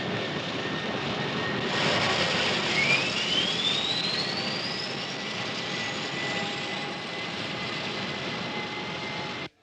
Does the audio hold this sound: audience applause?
no